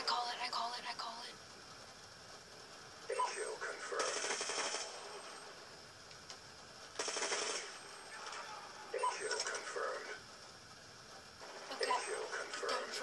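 Bursts of automatic gunfire from the Black Ops 2 video game come in several separate rattling volleys spaced a few seconds apart, fairly quiet against a low background.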